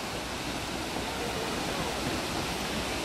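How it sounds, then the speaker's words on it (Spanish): Waterfall cascading beside basalt prisms in a canyon at Huasca de Ocampo, a steady, dense rush of falling water that fills the whole clip evenly, near and loud, with no talk over it. "Y la caída de agua."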